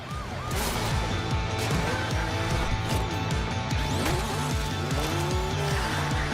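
RC cars race in The Crew Motorfest, engines buzzing continuously while tires squeal and skid in repeated sweeping chirps, loud and busy throughout with no voices.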